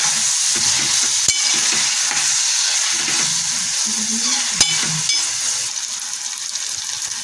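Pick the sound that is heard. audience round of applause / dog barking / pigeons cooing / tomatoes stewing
tomatoes stewing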